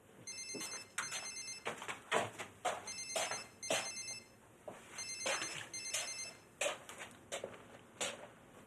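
A telephone rings with an incoming call in a domestic drama scene, its repeated electronic trill bursts coming in a steady rhythm at moderate loudness, close by, with no talking over it.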